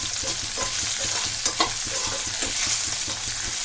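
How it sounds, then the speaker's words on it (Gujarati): Gunda relish fries in hot oil with turmeric and mustard seeds, giving a loud, continuous crackling sizzle with rhythmic stirring scrapes, close up and without talk. "આ રીતના હળદર અને રાઈ અને તેલમાં જ આ રીતના એનો સંભારો વઘારી દેવાનો છે"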